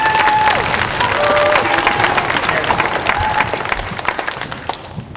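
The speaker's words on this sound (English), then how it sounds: "Can we clap for your teachers?" An audience at an elementary school awards event claps for the teachers, dense applause with a few cheers and whistles that tapers off toward the end.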